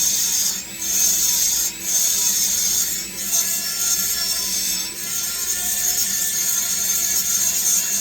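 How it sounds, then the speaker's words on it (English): A grinder works the casting marks on a Husqvarna 371 XP chainsaw cylinder, a hissing high-pitched abrasive whine that briefly dips a few times and then continues steadily at close range, with no talking. "So we just gonna take the grinder"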